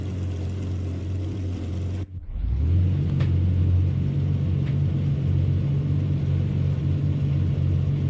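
A McLaren F1 GTR racing engine in Assetto Corsa drones steadily, cuts out briefly, then returns as a heavy, constant low rumble at a held pitch.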